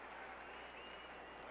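Dallas football stadium crowd from the 1980 49ers at Cowboys game roars in a steady, dense wash of cheering throughout, distant and continuous with no single voice standing out.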